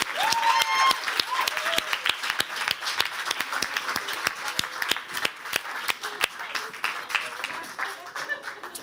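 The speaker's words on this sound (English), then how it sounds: "And give them a last applause, very loud and clear." A startup demo day crowd gives the pitchers a final round of applause, many sharp individual claps ringing out at first and thinning toward the end, with talk underneath.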